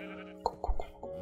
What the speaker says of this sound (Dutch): Ik heb ook een schaap mee.